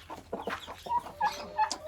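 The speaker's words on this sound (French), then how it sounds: "Puis voilà, le coq. Magnifique." A rooster at a small poultry breeding yard clucks in short, close, throaty bursts, a quick irregular series of soft calls with a couple of higher squawks near the end.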